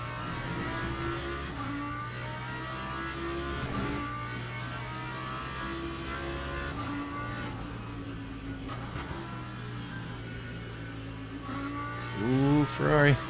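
A Ferrari race car engine in Le Mans Ultimate drones steadily at high revs with a tonal hum, then pitches sharply upward near the end.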